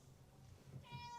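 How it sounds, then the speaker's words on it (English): A house cat meows indoors, a soft, somewhat distant cry rising near the end of a short stretch of quiet room tone. "She's meowing over there."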